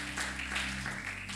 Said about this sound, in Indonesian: Tepuk tangan dulu buat Tuhan Allah kita.